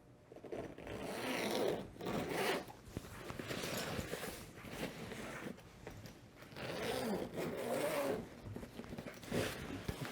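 Soft padded case for a Pedaltrain XD-24 pedalboard being unzipped, a close, loud run of zipper rasps in several pulls across the whole stretch.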